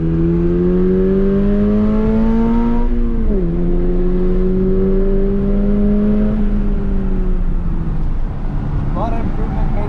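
A 2022 Toyota GR86 engine revs with a distinct high-pitched exhaust note, rising, dipping briefly, then climbing again before easing off; loud and close, with a faint voice underneath.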